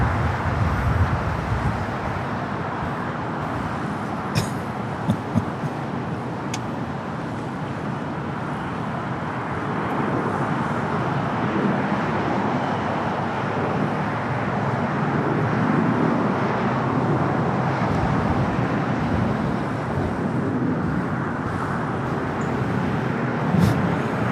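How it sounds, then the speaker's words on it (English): A Frontier A320neo airliner pushes back and begins taxiing at LAX, heard as a steady distant jet engine rumble mixed with broad airport and roadway noise, continuous and fairly loud without breaks. "Looks like you guys are now pushing back. Frontier A320 Neo should be starting its taxi here shortly."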